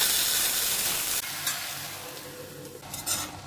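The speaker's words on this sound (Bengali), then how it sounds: "জলটা শুকনো করে পাতাগুলো ভেজে নেব।" Boiled bottle gourd leaves frying in a pan as the water cooks off: a loud, close sizzle and hiss that drops after a moment, broken by a few stirring scrapes.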